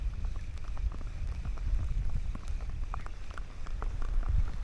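Steady rain pattering on a surface, a dense continuous hiss with scattered closer drops, no voices.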